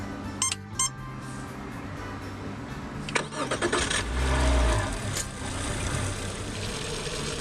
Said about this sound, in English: we're then ready to start the engine